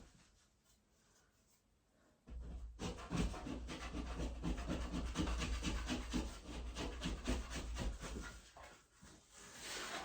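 Wallpaper is scraped off a wall in small pieces with a fast, rhythmic rasping, starting after a quiet moment and continuing close and steady.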